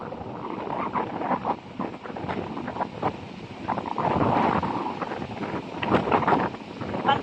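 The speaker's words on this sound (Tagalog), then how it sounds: "Lakas ng hangin." Strong wind gusts buffet the microphone by the sea, a rough, fluctuating roar that swells and dips steadily, with no clear voices over it.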